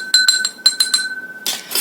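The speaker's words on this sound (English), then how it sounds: "I'm going to take this in a glass, going to add water to it and going to shake it" Soil and water shaken in a glass, giving a series of bright glassy clinks and rattles in quick bursts, then a pause and a couple of noisier, harsher shaking bursts, close and fairly loud.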